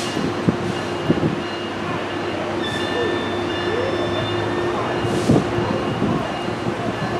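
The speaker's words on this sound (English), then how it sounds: "Okay, Metrolink 664 is leaving" Metrolink 664 pulls out of Fullerton station, a steady, fairly loud low rumble with faint high squealing tones drifting over it throughout.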